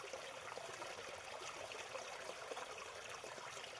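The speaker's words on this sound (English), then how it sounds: "a little cart pathway here, and the water flowing downhill to the other side" Water flowing downhill beneath an old stone cart-path crossing built with granite stringers, a steady, close, hissing and babbling stream that runs without a break.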